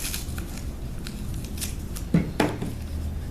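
Scissors snip through tape in two quick, close cuts during a science lab on a levitating ball, set against a quiet room background.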